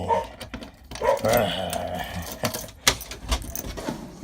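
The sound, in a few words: dog barking at knocking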